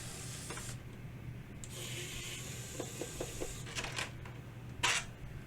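A KAIWEETS ES21 electric precision screwdriver driving larger screws. Its small motor whirs in short bursts, separated by clicks and brief gaps, ending in a sharper grinding spurt. The sound is close and moderately quiet, with no speech.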